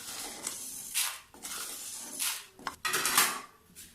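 Roasted spices are tipped from a pan into a bowl, making several quiet metallic scrapes and clinks in short, uneven bursts, close by and with no voices.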